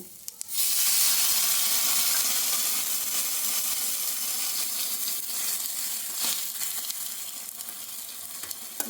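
Water poured into a hot pan of frying filling bursts into a loud, sustained sizzle and hiss of steam that gradually settles but keeps crackling, with no voices over it.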